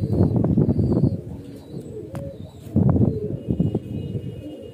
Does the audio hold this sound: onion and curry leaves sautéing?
no